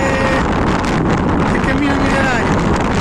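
Strong wind buffets on an exposed coastal hilltop at Punta di Su Guardiano, a loud, continuous roar that fills the whole clip.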